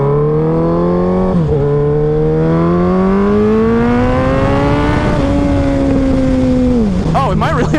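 A Suzuki Hayabusa 1300 motorcycle pulls hard, its engine note climbing steadily through the gears with brief dips at each shift, loud and continuous with heavy wind rush.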